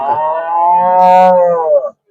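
A single long, loud cow moo at a cattle market swells and holds for nearly two seconds before cutting off, close by with no talking.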